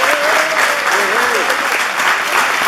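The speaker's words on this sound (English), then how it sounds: "you just clap for them as you hear them" Audience at a charity ball claps steadily for the event's sponsors, a dense, sustained wash of applause with a few voices rising briefly over it.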